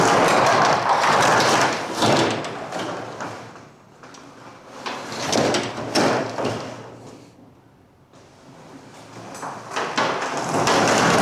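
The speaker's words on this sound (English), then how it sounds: "Let me get this roll-up door open" A shop's metal roll-up door is hauled open in a dark building, producing loud rattling, clattering surges that rise and fall in several bursts, dipping quieter near the middle before swelling again.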